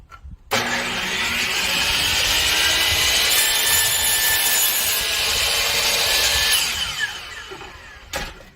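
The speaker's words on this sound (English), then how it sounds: "if you need to go ahead and cut a piece of wood, DeWalt's the way to go." A DeWalt power saw whines steadily through a piece of wood for about six seconds, loud and close, then winds down, followed by a short knock.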